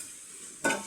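Mutton curry masala sautéing in a pan, with a soft continuous sizzle and then a sharp scrape of a stirring spoon near the end.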